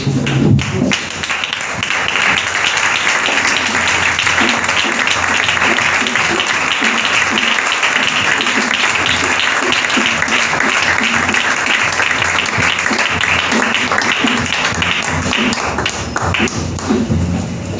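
A church congregation applauding during a Sunday worship service, a loud, sustained wash of many hands clapping with some rhythmic taps and thumps, continuing evenly for the whole stretch as the crowd cheers.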